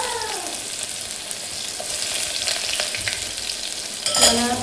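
Onion frying in hot oil with mustard seeds and cumin gives a loud, continuous sizzle with stirring scrapes and a brief metallic clink near the end, and no talk.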